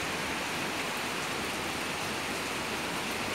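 A strong storm's rain and wind make a thick, steady hiss and roar close by, unvarying and loud for the whole stretch, nobody speaking.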